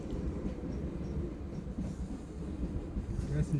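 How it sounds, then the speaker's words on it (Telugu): A Chittoor to Katpadi train runs past near a small village railway station, a steady low rumble of rolling wagons with faint rail clatter throughout, fairly close, with no talk over it. "కాట్పాడి వెళ్ళే ట్రైన్ అండి ఇది"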